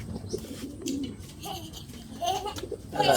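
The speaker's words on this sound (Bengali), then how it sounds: "একটা মাদি কবুতর হ্যাঁ" A female racing pigeon coos inside a racing pigeon loft: soft, low, throaty coos repeat at close range, with a few faint chirps mixed in and no one talking.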